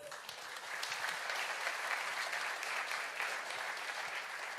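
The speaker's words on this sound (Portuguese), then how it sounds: "Aplauda o Senhor." A church congregation claps during a sermon, a dense, steady wash of applause that holds at an even level from start to finish with no talk over it.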